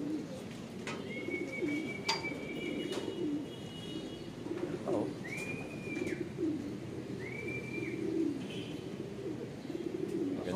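Racing pigeons arriving home after a drizzle, soft repeated cooing low and close throughout, with a few sharp whistles and chirps overhead and a brief exclamation from a man.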